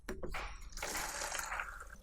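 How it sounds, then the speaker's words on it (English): Water fills a can for watering plants, a brief hissing, gurgling stream that starts after a couple of faint clinks and runs steadily and close for under two seconds. "We'll fill the water in this"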